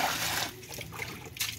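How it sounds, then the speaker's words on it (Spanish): Water poured over raw chicken feet for a final rinse while making consommé, a close, soft trickling and splashing that runs steadily and briefly swells near the end. "Para darles la última lavada les voy a agregar agua."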